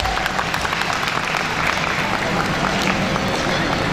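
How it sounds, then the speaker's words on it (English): A festival crowd at the Brampton Multicultural Festival applauds its volunteers with dense, sustained clapping that fills the space, with some voices mixed in beneath it. "So please, give them a big round of applause."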